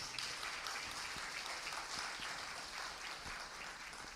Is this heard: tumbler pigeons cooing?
no